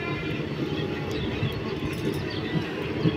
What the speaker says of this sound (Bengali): জাস্ট দেখো কত বড় ট্রেন, কাঞ্চনজঙ্ঘা এক্সপ্রেস